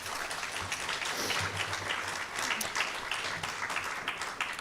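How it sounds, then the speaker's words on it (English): An audience at a school board candidates' forum for Lynbrook Public Schools applauding the four candidates, a sustained wash of clapping heard at moderate loudness. "So another round of applause for the 4 candidates."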